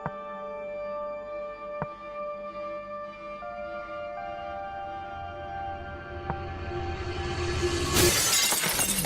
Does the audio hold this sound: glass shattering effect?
yes